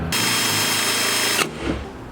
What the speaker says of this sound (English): I go ahead and drill my strengthening bracket